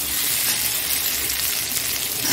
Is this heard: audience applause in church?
no